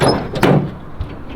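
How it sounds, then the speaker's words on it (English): A car door on a turbo G-body opens with a close, loud latch clunk and a creaking swing, followed by a softer thud, with no talk. "Open that door."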